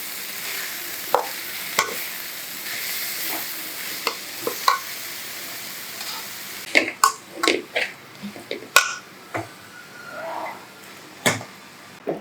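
Noodles stir-fried with Schezwan sauce, with a steady hiss of frying and occasional sharp utensil taps at first, then louder irregular tossing and scraping bursts against the pan, close and fairly loud.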